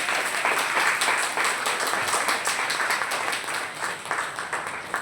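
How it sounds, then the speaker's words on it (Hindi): Sustained, enthusiastic applause from a live audience fills the room at close range, a dense rattle of many hands clapping steadily for the full length with no voices over it. "चलिए ताली बजाइए एक बार फिर से जोरदार।"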